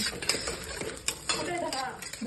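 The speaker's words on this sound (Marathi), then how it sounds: "छान ते सुरेपर्यंत परतून घ्यायचं आता" Spiced rice with homemade masala and coriander powder is stirred in a pan, with quick scraping and clinking utensil strokes over a faint sizzle, close and fairly quiet.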